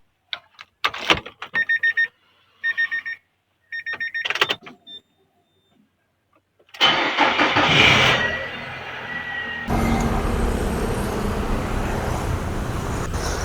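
An automatic car idles in neutral at a red light, its engine running at a low steady speed. A few short electronic beeps come first, then steady engine and road rumble continues to the end.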